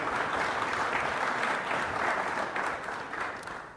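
Steady applause from a conference audience welcoming Senator Maurizio Sacconi onto the stage, a dense, moderately distant wash of clapping that holds throughout and eases slightly at the close.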